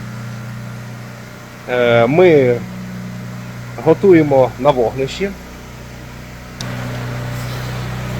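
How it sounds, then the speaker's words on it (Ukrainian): A generator drones steadily in the background during a power outage, a low mechanical hum running beneath a man's speech. "Той шум, що ви чуєте, це генератор."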